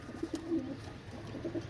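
Pakistani high-flying pigeons coo softly up close, a few low rolling coos in two short bursts separated by a pause, over faint background hiss.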